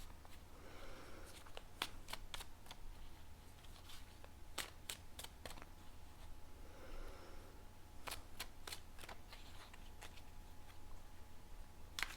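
Tarot cards being shuffled up close, repeated crisp riffling bursts and sharp flicks in irregular runs over a steady low hum, no speech.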